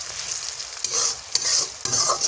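Leafy greens frying and being stirred in a pan with garlic and chili, a steady loud sizzle broken by three scraping stirs, no talking.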